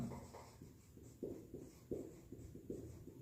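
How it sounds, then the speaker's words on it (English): Pen writing on a board during a biology lesson on meiosis, a series of soft rhythmic strokes and taps about every half second, close and fairly quiet with no talking. "So let me write it here."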